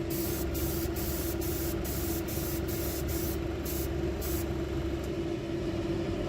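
An airbrush sprays fabric paint in a steady, continuous hiss, loud and close, with a faint mechanical rumble underneath and no talking.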